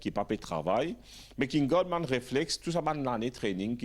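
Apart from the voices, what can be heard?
No everyday noises stand out.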